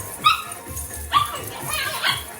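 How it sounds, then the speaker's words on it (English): Several dogs bark and yip indoors during a belly dance fitness workout, a few sharp barks spaced apart with whimpering between them, fairly close, while someone talks over them. "Hopefully you guys can hear me over the dogs."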